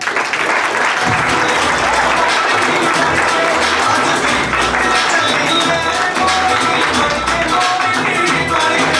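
Dense, loud audience applause fills a stand-up comedy club, steady and sustained throughout with a few cheers mixed in.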